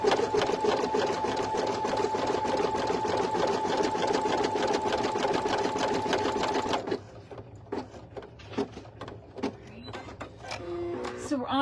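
An embroidery machine stitches an in-the-hoop sleep mask through topper, running loud and steady for about seven seconds before dropping to quieter, intermittent stitching bursts.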